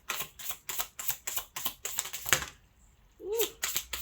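Tarot cards are shuffled in a fast run of crisp, evenly spaced riffling snaps, close and fairly loud, then a short pause and a brief vocal exclamation.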